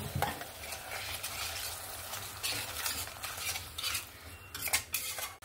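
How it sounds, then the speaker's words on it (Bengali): Masala being fried and stirred in a pan after water is added, for a jackfruit and prawn curry: steady sizzling with repeated scraping and clinking of a spoon against the pot, fairly close and continuous, no talking. "এবার আমি যে মশলা ধোয়া জলটা এখানে দিয়ে আরো 1 মিনিটের মতো মশলাটাকে কষিয়ে নেব"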